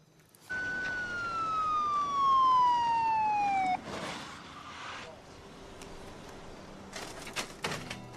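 An ambulance siren in a TV drama sweeps down in a long falling wail, loud and close, then cuts out, leaving faint background noise and a few scattered clicks.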